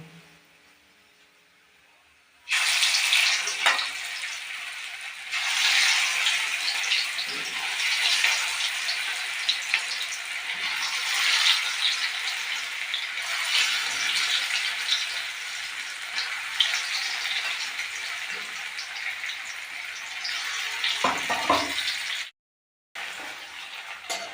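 Onion fritters (pyaji) deep-frying in hot oil, a steady loud crackling sizzle that starts abruptly and runs continuously, briefly cutting out near the end.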